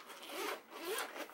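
Zipper pulled open along a waterproof faux leather makeup bag, a close, quiet rasping run in two strokes with no voices.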